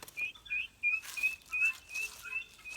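Guinea fowl keets give a run of high, thin chirps in a steady, insistent rhythm, about eight calls in under three seconds, fairly faint and close with no talking.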